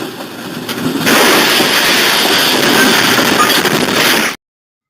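A loud, steady rumbling roar with metallic clinking swells in after a second and holds evenly for several seconds before cutting off abruptly, like a train sound effect.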